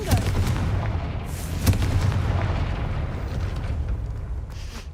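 Confringo blasting spell going off in the Hogwarts Legacy video game, a loud burst of rumbling explosions and cracks near the start, then a dense roaring crackle that slowly fades.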